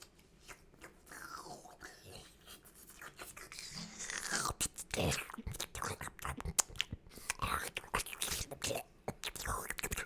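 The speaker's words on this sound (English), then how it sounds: "He had no teeth, he couldn't chew them, he was just kind of gumming them" Toothless man gumming gummy worms: soft, wet, close-up mushing and smacking sounds in an irregular rhythm, quiet and continuous with a few crisper bursts.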